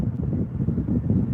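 Strong wind buffets a microphone at Mojave Spaceport, giving a low, gusty rumble that surges and eases.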